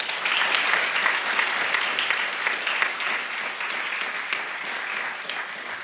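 Sustained applause from a lecture audience at a Capitol Hill free speech event, steady and dense clapping filling the room for about six seconds without a break.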